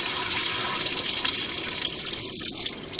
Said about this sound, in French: En principe, l'eau qui descend ici.